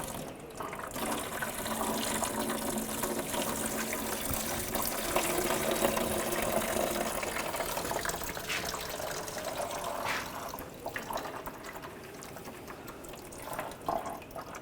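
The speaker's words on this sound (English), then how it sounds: "I'll take the hose off. I'm gonna lose some more coolant" Coolant drains from a hose into a bucket under a 2004-2012 Chevrolet Colorado with a 3.7L L5 engine, a steady close splashing trickle that thins and turns irregular near the end.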